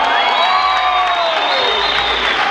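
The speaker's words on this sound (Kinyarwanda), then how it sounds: "amashyi menshi cyane" A crowd at a gathering honouring Jay Polly's family applauds and cheers continuously, a dense loud wash of clapping and whoops with rising and falling cries through the whole stretch.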